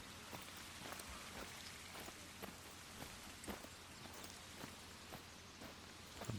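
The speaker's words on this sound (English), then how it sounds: "Rain's still coming down a little bit" Rain falls in a storm after heavy fog in the Layton Lakes hunting video game, a faint continuous hiss with regular soft drop and patter ticks throughout and no speech.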